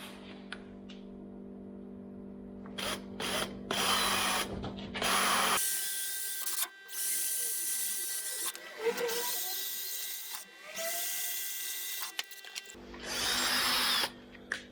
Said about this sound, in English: first pilot hole, a little bit of oil on the drill bit.